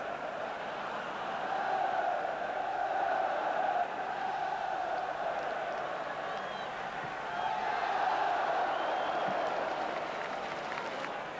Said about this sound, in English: the Ibrox faithful acknowledged the unhappy plight of the visitors and began cheering any Stranraer move